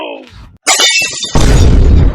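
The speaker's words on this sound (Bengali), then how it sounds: "তুমি আমার ফোনটা ভেঙে দিলে," A mobile phone is smashed in a comedy sketch: a sharp cracking impact followed by a louder, sustained shattering crash lasting under a second.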